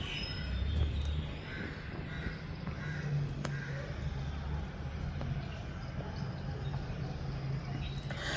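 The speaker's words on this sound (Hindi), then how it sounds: "ठंडा ठंडा मौसम है और चिड़ियों की आवाज़ होती है।" Crows caw intermittently in the distance over a steady outdoor hum, with faint scattered bird calls in a quiet, cool summer early-morning setting.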